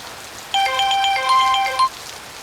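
A short electronic ringtone melody plays alone for about a second and a half, bright repeating tones against quiet background hiss.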